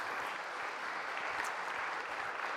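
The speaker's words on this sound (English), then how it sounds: "Round of applause." Steady applause from a conference audience after a talk at a data infrastructure event, a dense even patter of many hands clapping at moderate level throughout, with no voices on top.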